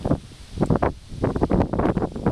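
Strong wind buffets the open deck of a steamboat heeling in a crosswind, giving loud, gusty rumbling bursts that rise and fall close to the microphone.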